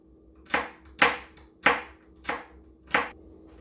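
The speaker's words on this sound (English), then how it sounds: "same thing with your celery. Just you want to cut it in smaller pieces." A knife chops celery on a board in five sharp, evenly spaced strikes about half a second apart, close and crisp against a quiet background.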